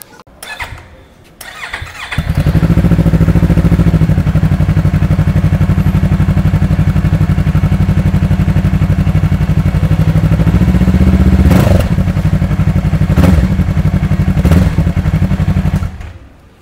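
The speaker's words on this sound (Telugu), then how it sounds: "ఇప్పుడు ఇంజన్ నాయిస్ వినండి." A Yamaha MT-03 321cc motorcycle engine starts up and settles into a steady, loud idle close by, with a few brief revs partway through before it cuts off.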